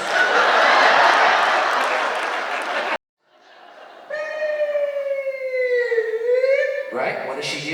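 A voice imitates an ambulance siren on stage at a Portuguese American stand-up comedy show, a rising and falling wail that follows a burst of crowd noise and a brief pause.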